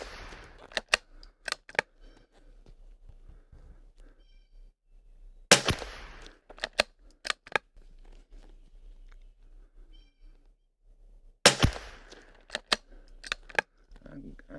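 Kimber .22LR ammunition fired from a rifle outdoors, three clusters of sharp cracking shots spaced several seconds apart, each group several quick pops, close and loud, with someone talking quietly between them.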